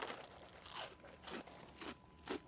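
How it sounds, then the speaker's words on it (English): Chocolatey breakfast cereal being eaten with a close, faint series of dry crunches, about five distinct bites and chews spaced irregularly, with no talking. "Well, Rob, it is quite crunchy. It's really chocolatey."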